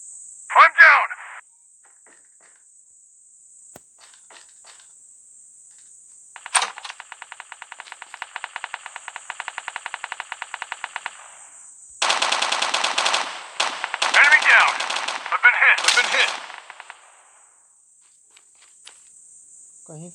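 Call of Duty Mobile battle royale gunfire on Android comes as a sharp early shot and then several sustained automatic bursts, loud and close, separated by near-silent gaps with a faint steady tone underneath.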